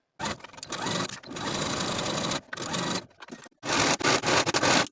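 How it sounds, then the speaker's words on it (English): Sewing machine and serger stitching and finishing a skirt side seam, running in several close, buzzy bursts broken by short pauses, with no speech. "Now you can sew this side seam from top to bottom and serge the seam to finish."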